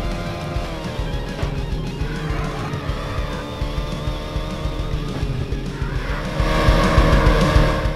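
A Toyota Supra races at full throttle in Need for Speed, its engine droning steadily with shifting harmonic pitch throughout, growing louder and more strained near the end, alone without talk.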